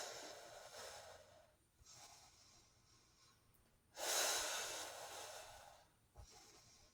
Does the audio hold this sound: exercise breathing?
yes